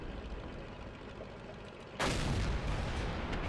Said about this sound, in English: Shot went high, didn't fully aim.